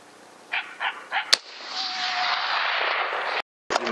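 A single sharp rifle shot cracks out during an outdoor coyote hunt, preceded by a few muffled thumps and followed by a steady hiss of wind or rustling, then a brief dropout.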